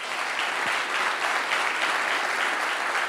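A large conference audience of hotel investors and operators breaks into sustained applause, a dense, even roar of many hands clapping, steady and full from start to finish with no voices on top.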